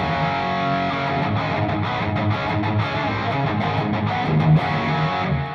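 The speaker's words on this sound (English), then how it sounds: "Now that distortion you're hearing is the dirty channel of the 5150." An electric guitar plays through the dirty channel of a 5150 amp, giving a thick, saturated distorted tone that sustains densely and loudly throughout with no talk.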